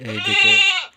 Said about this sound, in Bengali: এইদিকে আবার দুইটা ছাগল